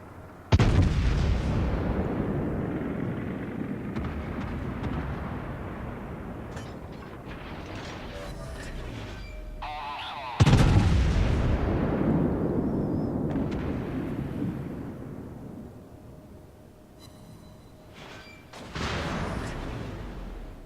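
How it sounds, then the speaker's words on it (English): Heavy ship guns fire in a naval video game, three deep booming salvos, each a sudden loud blast with a long rumbling fade, spaced several seconds apart. "now I'm gonna shoot over my shoulder"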